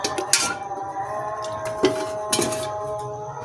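A second metal kadhai is set down on the stove in a home kitchen while beef matar qeema is cooked, with a few clanking metallic knocks and clinks over a steady background hum.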